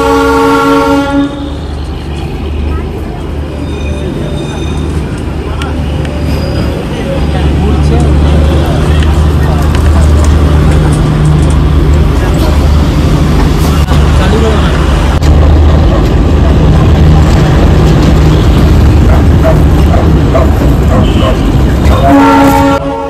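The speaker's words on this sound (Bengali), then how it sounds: "টয় ট্রেন এঁকে বেঁকে ছুটে চলেছে টুং সোনাদা হয়ে ঘুম স্টেশনের দিকে" The Darjeeling toy train winds along the hill line through Tung and Sonada toward Ghum, a loud continuous rumble and clatter of carriages with a horn sounding at the start and again at the end.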